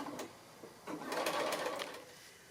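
A sewing machine runs quickly as quilt blocks are fed through, a fairly quiet continuous whirring hum with slight surges.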